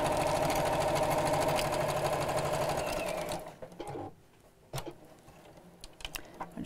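A sewing machine stitches two fabric edges together into a tube, running steadily and loud for about three seconds before stopping, followed by quieter handling clicks and taps.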